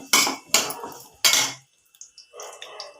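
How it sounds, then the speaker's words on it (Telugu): Utensil scraping and stirring gooseberries in hot oil in a pan, three sharp metallic clatters followed by softer faint clinks and light sizzling. "ఈ ఉసిరికాయలు వేసుకొని ఒక్కసారి కలుపుకొని"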